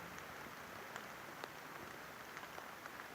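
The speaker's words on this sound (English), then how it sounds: "But yeah, check out this rain." Rain falls at night as a faint, steady hiss with scattered soft drop ticks, heard alone and at a distance, with no voices.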